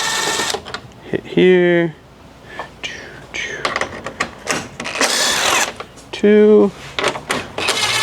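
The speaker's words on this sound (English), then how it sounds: "then we're going to transition over to our 10mm socket" A ratchet driving a 10mm socket clicks in quick bursts while removing grille fasteners on a 2025 Toyota 4Runner, close by, with someone talking quietly over the work.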